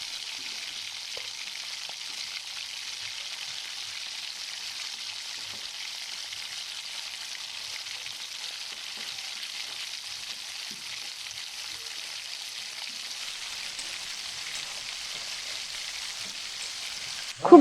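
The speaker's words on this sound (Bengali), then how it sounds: "এর মধ্যে ভেজে রাখা মাছের মাথাগুলো দিয়ে দেবো দিয়ে আবারও সব কিছু ভালো করে কষাবো" Fried fish heads stir-fried with jackfruit and potato in a pan, a soft, steady frying hiss that runs evenly throughout, with faint scattered scrapes and a brief knock at the very end.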